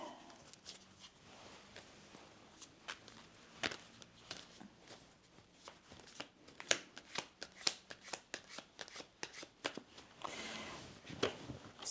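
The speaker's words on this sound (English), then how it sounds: "Switching the tarot decks over." Tarot card decks are handled and swapped, with soft, close card riffling, rustling and light taps scattered through a quiet room. Nobody speaks.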